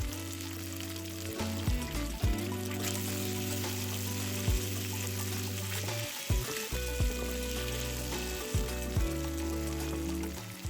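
Mushroom and chicken stir fry sizzling in a pan as scallion sections and sesame oil go in, a steady frying hiss under a persistent low hum and a few light clinks and stirring knocks.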